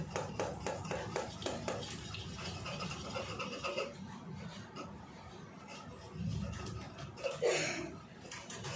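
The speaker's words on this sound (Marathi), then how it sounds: "आता आपण ह्याच्यावर हे आंबे असे घासून घेऊया" Ripe mangoes and their peels rubbed and scraped over a metal utensil to press out pulp for aamras, giving a steady gritty scraping with clinks of cookware, loudest early on and again near the end.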